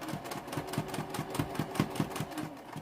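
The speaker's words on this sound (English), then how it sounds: "we're just stitching this down so it doesn't shift while we sew it to the gusset" A sewing machine stitches fabric down along a heart-shaped curve before joining it to a gusset, running in a quick steady rhythmic chatter of needle strokes, close and moderately loud with no talking.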